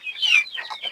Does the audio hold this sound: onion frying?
no